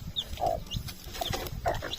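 Crossbred chickens on a farm cluck in short, scattered bursts, fairly close, over a busy low background with no talk.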